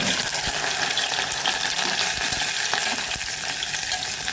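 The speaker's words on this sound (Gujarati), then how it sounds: "હવે આપણે ભીંડાને ફ્રાય કરી લઈશું।" Okra fries in hot oil in a pan, giving a dense, loud, continuous sizzle with faint clinks of stirring, and no voices.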